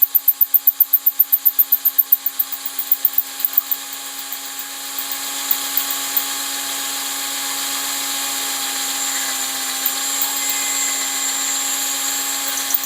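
A power drill bores a hole during work on a 1975 Hemi Plymouth Duster build, starting with a rapid series of pulsed bursts, then settling into a steady continuous whine that runs to the end, fairly close with no talking.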